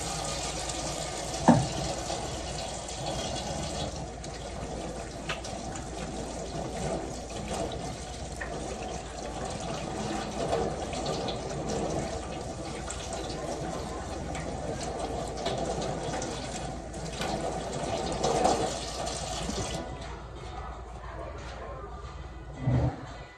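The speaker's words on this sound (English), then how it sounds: "So let me wash my hands and let's start." Tap water runs steadily into a sink while hands are washed in a home kitchen before cooking, a continuous close splashing stream with brief louder bumps that cuts off near the end.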